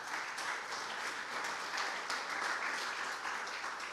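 A church congregation applauds during a sermon, a sustained, even roar of many people clapping together, full and fairly distant, with no speech over it.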